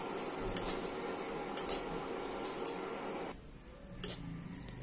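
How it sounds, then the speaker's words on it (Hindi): Coconut being stirred and dry-roasted in a kadhai, a spoon scraping and clinking against the metal in quick, irregular taps over a soft steady hiss, fairly close. "कढ़ाई में डाल देंगे 1 कप कोकोनट, इसे 2 मिनट के लिए भून लेंगे।"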